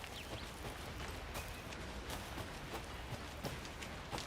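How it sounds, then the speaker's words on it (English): Rain in the video game Alan Wake II, a soft, steady patter of drops with scattered sharper ticks, moderately quiet and alone without voices. "Should have brought an umbrella. I like the rain."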